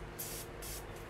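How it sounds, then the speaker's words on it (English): Morphe setting spray misted onto a makeup brush: two short, quiet pump hisses in quick succession, close to the microphone. "I'm going to spray this Morphe brush here with my Morphe spray"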